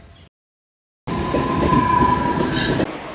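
After a brief silence, a loud, steady rumble of a Mumbai local train near Dadar rolling along the tracks fills the clip, with a faint squeal riding on top.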